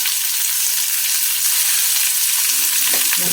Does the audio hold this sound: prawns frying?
yes